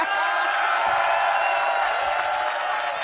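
An audience at a panel talk cheers and whoops loudly and continuously, a dense wall of voices with some clapping mixed in.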